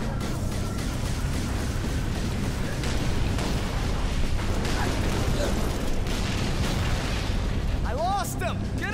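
Dense rumbling boom from a grenade blast in Halo 3 mixed with ongoing battle noise and gunfire, a thick sustained roar with no clear single onset, loud throughout.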